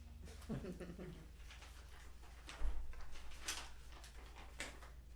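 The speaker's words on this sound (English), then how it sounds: "door just opened" A door opens in a quiet meeting room, giving one soft low thump partway through against faint room hum and scattered small noises.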